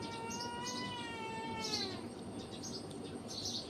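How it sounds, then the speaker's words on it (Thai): A cat meows in a long drawn-out call, with a second faint cry later, over steady background noise and chirping. "แมวกับพ่อแมว"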